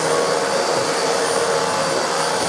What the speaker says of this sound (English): let's get the Hoover out